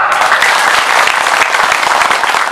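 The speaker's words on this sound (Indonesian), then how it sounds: "Tepuk tangan dong." A religious gathering audience claps together in a loud, close, continuous burst of applause, dense and steady for its short length.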